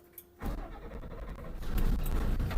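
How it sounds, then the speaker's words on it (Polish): An Autosan bus engine cranks and catches after a brief click, then settles into a low, rumbling idle that swells slightly louder toward the end, recorded close by with no talk. "Także odpalam auto."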